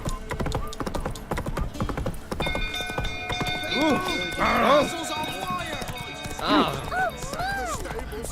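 Roach the horse gallops in The Witcher 3, a steady clip-clop of hooves with a few whinnies, heard under game music and someone talking over it.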